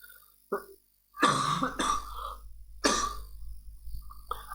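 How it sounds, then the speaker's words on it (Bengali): A man with a cough coughs and clears his throat several times in quick bursts, close and fairly loud, with short quiet gaps between them. "আমার একটু কাশি আছে"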